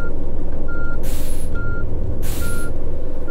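A tourist bus reverses in the Tourist Bus Simulator video game, with three evenly spaced reversing beeps over a loud, steady engine rumble and two short hissing air-brake bursts.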